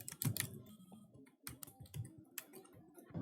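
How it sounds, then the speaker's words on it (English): Keys clack in quick irregular bursts on a computer keyboard as an email address is typed into a web hosting control panel login, close and quiet, with short pauses between runs of strokes. "type your email ID here. I'm putting my email ID"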